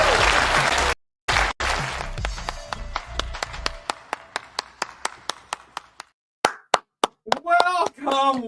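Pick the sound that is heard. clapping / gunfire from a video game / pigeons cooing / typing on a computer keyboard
clapping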